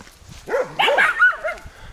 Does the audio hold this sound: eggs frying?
no